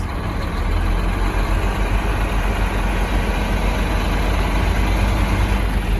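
A truck's diesel engine holds a steady, loud low rumble at raised revs during an in-cab inspection and brake test, droning continuously without breaks.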